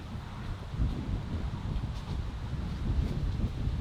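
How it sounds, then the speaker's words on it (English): Wind blowing outdoors, buffeting the microphone with a steady low rumble and gusty swells, continuous and fairly strong with no voice. "It is windy"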